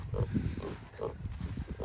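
Kunekune pigs on a farm give soft, low grunts in a loose repeating rhythm, close by over a steady outdoor background.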